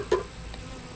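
Honeybees buzzing around a beekeeper working at the hive, heard as a faint, brief insect buzz near the start and then a low, quiet hum.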